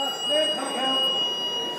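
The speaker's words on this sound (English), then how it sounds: "staff can activate an alarm system to call for help" A break-glass alarm rings with a steady high electronic tone through a prison landing in Dublin, continuous and fairly loud over background commotion.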